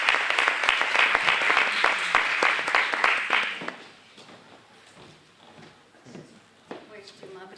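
Warm applause from a seated audience welcoming a guest speaker at a reading-program talk, dense and steady for about three and a half seconds before dying away into soft room murmurs and a voice starting to speak.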